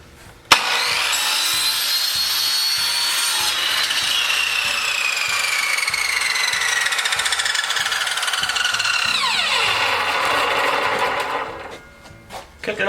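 A power saw cuts through PVC pipe for a homemade drink holder, a steady loud whine with sliding pitch running about ten seconds after a sharp start, then stopping near the end.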